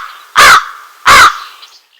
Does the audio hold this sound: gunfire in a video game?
no